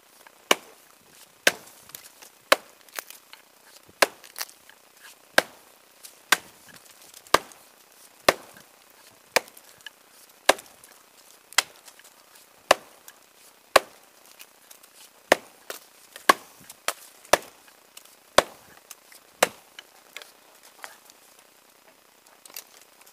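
An axe strikes a tree trunk again and again, cutting an 8-inch notch outdoors. The sharp, crisp chops land roughly once a second, each one clear and close, with a faint rustling bed beneath them.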